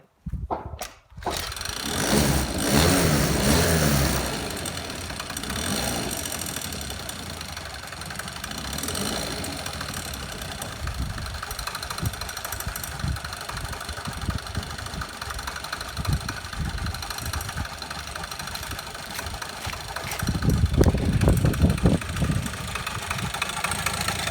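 Scooter engine under repair running at a steady idle, a close mechanical chugging hum that swells into revving bursts near the start and again toward the end.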